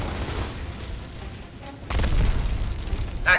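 A frag grenade goes off in the Gears of War shooter, a loud, full-bodied boom that swells about two seconds in and rumbles on to the end, following a quieter stretch of game ambience.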